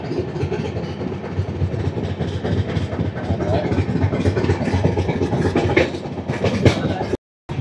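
Passenger train 08551 on the Visakhapatnam to Araku line, rolling steadily with continuous rumble and rail clatter heard from on board, loud and sustained, briefly cutting out near the end.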